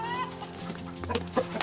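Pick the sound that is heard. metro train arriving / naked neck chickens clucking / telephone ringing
naked neck chickens clucking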